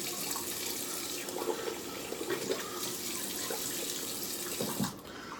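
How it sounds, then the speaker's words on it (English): Steady rush of cold New York City tap water running from a tap, continuous and fairly close, with a brief change in flow near the end. "rinse off with some of this ice cold New York City tap water"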